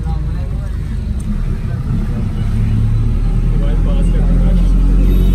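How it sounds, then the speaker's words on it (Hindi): Honda Civic driving, a low steady engine and road rumble inside the car that grows slightly louder midway, with someone talking over it. "अब हम अपनी होंडा सिविक पे जाएंगे वापस होटल"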